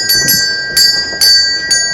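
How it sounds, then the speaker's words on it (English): Two small bells rung by a bell pull in a preserved Georgian townhouse in London, giving bright metallic dings in an irregular sequence of about five strikes, each ringing on briefly, close and fairly loud with no talking. "while I'm here, bell pull."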